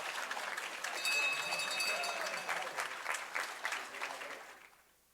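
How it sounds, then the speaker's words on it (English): Audience applause at a board of education meeting, steady crowd clapping for several seconds that fades out toward the end, with a faint voice briefly underneath. "Let's give them another round of applause."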